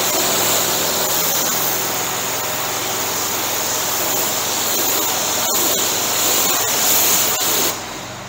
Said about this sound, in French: je vais aller repartir la machine à pression et puis je vais rincer ça